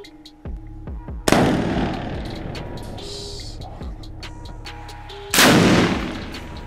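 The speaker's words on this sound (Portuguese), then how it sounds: "Um disparo só." Two loud, sharp gunshot blasts a few seconds apart, each followed by a rumbling echo, with scattered clicks and knocks between them, fired at a fire extinguisher.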